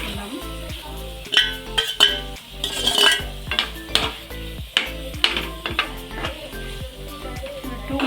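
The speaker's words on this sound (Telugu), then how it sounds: "మనం ముందుగా రెడీ చేసి పెట్టుకున్నాం కదా చికెన్ పీసెస్ ఇట్లా వేసుకుందాము" Chicken pieces dropped into a hot pan of spiced oil for a Telugu-style chicken fry, with metal spoon clinks and scraping against the pan and a soft sizzle underneath, close and irregular.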